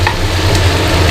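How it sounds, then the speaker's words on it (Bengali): Spiced vegetables being stirred and fried in oil give a dense, steady close sizzle with faint scraping from stirring, continuous and fairly loud, with no voices. "এইভাবে নাড়াচাড়া করে সবজিগুলোকে একটু ভাজা ভাজা করে নিতে হবে।"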